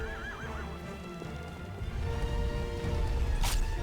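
Agro the horse from the video game Shadow of the Colossus gives a clear whinny at the start, then hoofbeats clip-clop and build louder toward the end, with a short crash near the close.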